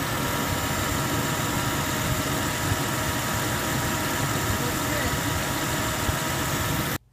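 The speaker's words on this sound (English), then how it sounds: "we're just going to start the vehicle and let it run for about 1 minute" A 2002 Mercedes W163 SUV engine idles steadily after a power steering pressure hose replacement, a close, constant broadband rumble with no talk that cuts off abruptly at the end.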